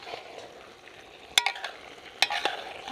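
A spoon stirs chicken tehari gravy in a pot over a low, steady sizzle. Two sharp scrapes against the pot stand out near and clear, with no talking.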